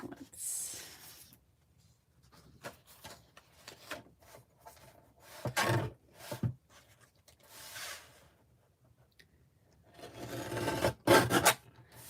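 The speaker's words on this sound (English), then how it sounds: "This is the deckle edge trimmer, so it doesn't cut straight, but it gives like a deckled edge to things." A Tim Holtz deckle edge paper trimmer works through card stock in a crafting session, giving a series of short raspy rubbing strokes with pauses between them, close and fairly quiet with no talking.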